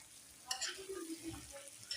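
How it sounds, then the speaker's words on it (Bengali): Peas and mixed vegetables stirred and frying in a kadai, a spatula scraping with soft sizzle, one sharper clatter near the start then low continuous frying, fairly quiet and close. "সুন্দর করে আরেকবার নেড়ে দেখাচ্ছি বন্ধুরা"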